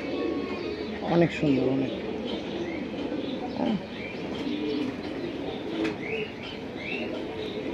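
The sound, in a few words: pigeons cooing, pink male flying pigeon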